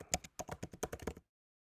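About seven or eight crisp, close keystrokes tap out on a computer keyboard in a quick uneven rhythm, then silence.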